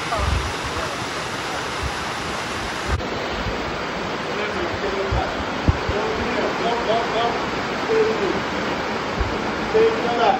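Water rushes and splashes steadily at Dunn's River Falls in Jamaica, a broad continuous roar of falling water close to the microphone, with wind buffeting and faint voices in the background.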